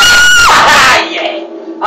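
Friends screaming in fright while playing the Slender video game, a loud, sharp, high shriek that falls off after a second, leaving fainter voices behind.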